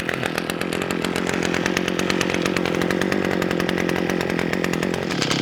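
An Echo SRM-410U brush trimmer engine runs after being pull-started, a loud, close, buzzing two-stroke drone holding steady throughout.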